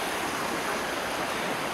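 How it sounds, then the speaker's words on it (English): The Pišnica river rushes continuously in the mountains, a dense, steady roar of flowing water heard close up with no other sounds. "this river is called Pišnica"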